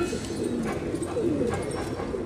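Tonk desi high flyer pigeons coo in repeated soft, throaty rolling calls, close by and layered over one another against a low background murmur.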